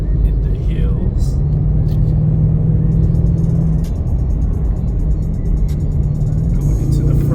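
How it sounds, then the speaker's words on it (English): A 2024 Ford Mustang convertible with a turbocharged inline-4 drives through twisting hill roads at night, its low engine drone and road rumble steady under occasional talk, pitch holding then shifting slightly near the end. "in this Ford Mustang convertible inline-4 turbocharged in the twists and turns in the hills"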